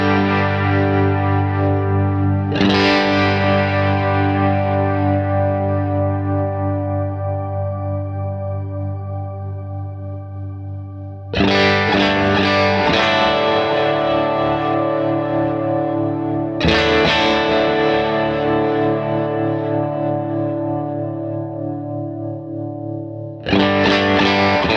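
Electric guitar with a worship-style effects tone, chords ringing out with long reverb and echo tails, strummed in several separate swells that decay slowly, loud and alone with no talking.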